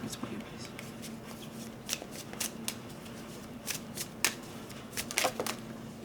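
Tarot cards are shuffled by hand for a reading, giving soft riffling and flicking bursts at irregular intervals over a quiet room tone, with a faint steady hum beneath.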